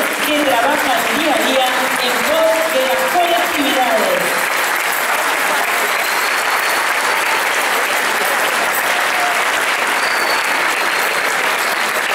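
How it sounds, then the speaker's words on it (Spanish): A large crowd at an evening show of community groups in Rosario breaks into loud, dense, sustained applause that fills the whole stretch, with a voice briefly heard over it at the start. "convocamos a un gran aplauso para todas estas instituciones"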